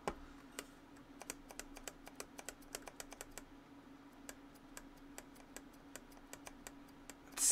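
Mechanical keyboard keys fitted with a GMK escape keycap clack in sharp, separate strokes, some quick bursts and some slower taps, over a steady low hum. Close up with no speech, and a louder knock right at the end.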